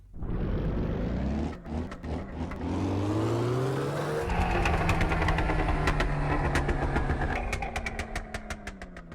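Modded car engine in the racing game Live for Speed, loud and continuous, revving and holding steady pitch, then jumping up through higher revs with crackling pops layered over the drone.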